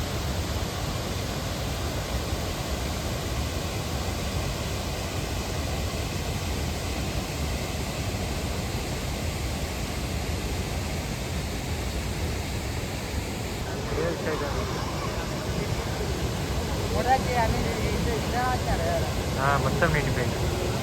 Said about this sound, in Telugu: మీకైతే వాటర్ ఫాల్ సౌండ్ అయితే వినిపిస్తాను